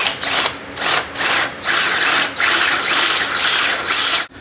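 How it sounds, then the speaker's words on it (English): A power drill bores out rivets on a motorized bike chain guard, running in repeated bursts with short pauses between them, loud and close. "But I'm going to try and drill them out first."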